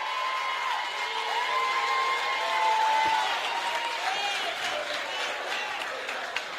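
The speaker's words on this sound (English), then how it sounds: "A round of applause." Audience applause with scattered whoops and cheers at a PNP people's forum in St James town hall, filling the room steadily for several seconds after a speaker is introduced.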